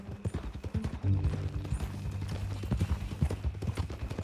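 Horse hooves clip-clop steadily in Red Dead Redemption 2, a close, continuous trotting rhythm over a low ambient drone.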